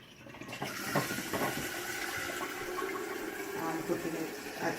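Running water pours from a tap into a kettle in a home kitchen, a soft steady splashing and trickling that lasts several seconds at close range.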